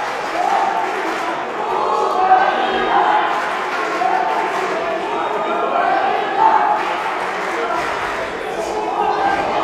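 Spectators shouting in a boxing arena during a Bocskai István Memorial 2023 bout, a continuous crowd din with repeated rising yells and chants that pulse every couple of seconds, with voices mixed through it.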